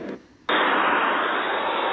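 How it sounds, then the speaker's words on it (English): A loud, even hiss of white noise from a sound machine switches on abruptly and holds steady without variation. "And that's the whitest of white noise."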